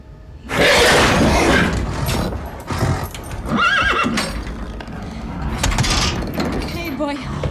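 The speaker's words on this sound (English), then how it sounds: "Horse." A horse neighs loudly in a scene from the 2002 horror film The Ring, with whinnies, snorts and hoof clatter over tense score and scattered voices.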